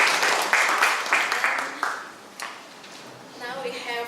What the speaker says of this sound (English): now big round of applause for the speaker